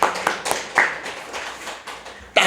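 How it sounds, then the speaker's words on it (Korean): A small group in a Korean Bible study class claps briefly and unevenly, with a few scattered sharp hand claps close by and short gaps between them. "박수 한번 쳐줘봐요"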